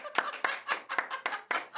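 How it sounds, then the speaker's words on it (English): A street performance crowd claps in bursts at an outdoor festival in Edmonton, each burst a cluster of close, sharp hand claps repeating about every quarter second, with a faint chuckle mixed in. "Now is the time you clap."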